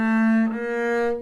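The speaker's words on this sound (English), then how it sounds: "So the top of the melodic minor scale sounds like this" Double bass sounding the top notes of a melodic minor scale, two sustained bowed-sounding pitches in succession, close and clear with rich harmonics and no talking.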